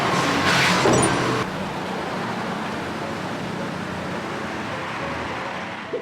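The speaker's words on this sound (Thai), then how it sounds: "ขึ้นรถขับไปข้างนอก ไปจ้า ไปแล้ว" A new MG5 car pulls away, with a short louder rustling burst at the start and then a steady, even engine and road hum.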